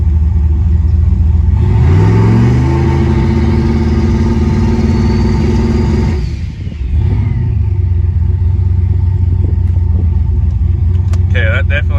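A car's engine, held on the trans brake in first gear with a 2-step launch limiter, revs hard and holds a loud, high, steady pitch, cuts out briefly, then drops back to a deep rumbling idle.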